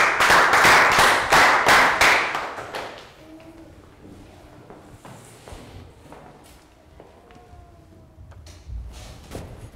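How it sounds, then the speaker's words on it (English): Children in a Year 3 science class clap for a classmate, a brief loud burst of clapping that stops after about three seconds, followed by quiet classroom shuffling and taps. "Round of applause for Phil"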